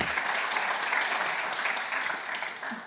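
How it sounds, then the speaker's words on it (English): Applause from a business forum audience, a steady wash of many hands clapping evenly for a few seconds with no break. "Round of applause."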